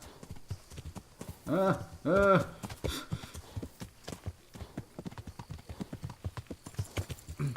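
Rhythmic hoofbeats of a galloping horse in the video game Kingdom Come: Deliverance, steady and close, with a person talking over them and a couple of louder vocal bursts.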